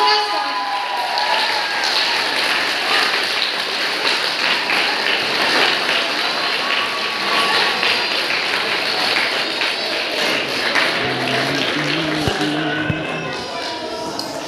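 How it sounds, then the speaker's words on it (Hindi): A crowd at a school prize ceremony applauds the teachers as they come onto the stage, producing a loud, sustained wash of clapping with voices and stage noise mixed in throughout. "भरपूर तालियाँ"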